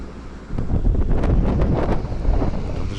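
Strong, cold wind in Mongolia buffets the microphone in a steady, rumbling roar that gusts slightly louder after the first half second.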